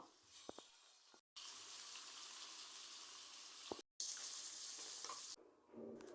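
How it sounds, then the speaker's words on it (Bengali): Fish fries in hot oil in a wok, giving a quiet, dense hiss of spattering oil. The sound is broken by abrupt cuts into separate stretches, and no one speaks. "তেল গরম হয়ে গেছে, এখন মাছগুলো দিয়ে সুন্দর করে ভেজে নিব।"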